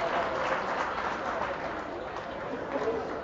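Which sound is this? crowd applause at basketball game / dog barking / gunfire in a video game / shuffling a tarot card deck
crowd applause at basketball game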